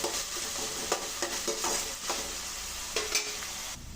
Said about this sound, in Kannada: ಹಸಿ ಸ್ಮೆಲ್ ಹೋಗೋ ತನಕ ನಾವು ಫ್ರೈ ಮಾಡ್ಕೊಬೇಕಾಗತ್ತೆ